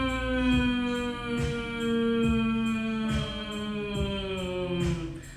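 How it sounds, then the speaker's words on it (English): A sustained, steady vocal hum forms part of a yoga breathing exercise, held for several seconds over soft rhythmic background music with a gentle, regular beat. "This time we'll do a humming sound."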